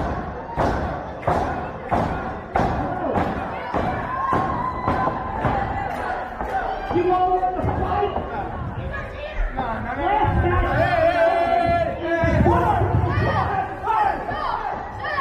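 Wrestling event crowd roaring and chanting in rhythmic bursts with thumps, loud and continuous, building into a swelling cheer while a commentator's voice runs over it.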